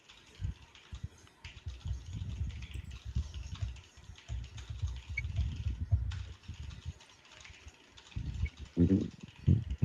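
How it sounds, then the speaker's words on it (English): Fast, hard typing on a computer keyboard clatters in uneven bursts. The clicks are fairly close and rise into heavier clusters toward the end. "someone else is angry typing"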